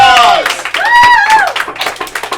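A comedy show audience at a live club night claps and cheers briefly for a comedian, with a loud voice carrying over the scattered, fairly close applause.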